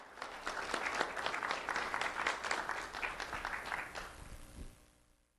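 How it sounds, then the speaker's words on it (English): An audience applauds at an award ceremony, a dense, steady round of clapping that holds for several seconds before tapering off near the end. "Let's have a round of applause for Karina Scarberry."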